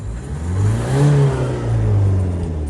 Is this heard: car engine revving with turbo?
yes